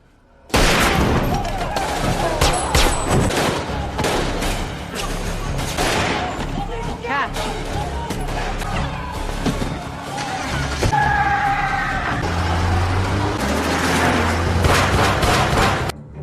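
Gunfight in a film: dense bursts of gunfire and rapid shots mixed with vehicle engine noise, tire skids and impacts, loud and chaotic throughout, with voices briefly heard in the action.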